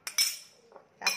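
Metal spoon clinking against a glass or ceramic container while scooping seasoning, three bright, ringing taps in quick succession, close and alone.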